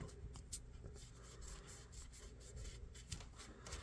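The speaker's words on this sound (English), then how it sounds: "take our rubbing compound, put some on a patch here, get down in there" A vintage Imperial Kamp King knife being scrubbed with rubbing compound on a cloth patch, a faint steady rubbing and rasping with small scratchy strokes, close and quiet.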